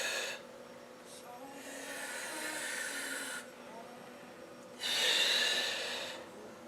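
Breathing during step-up exercises: two long, audible breaths rush in and out close to the microphone, the second one louder, with no talking.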